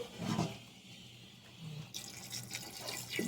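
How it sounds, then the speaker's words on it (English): Boiling water is poured into a cooking pot of curry goat with potatoes, a soft, fairly faint splashing pour with gurgling that swells near the end. "So we're gonna add some boiling water."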